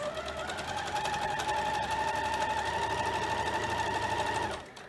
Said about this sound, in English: bring it over to the machine here and sew that unit together with a 1/4 inch seam allowance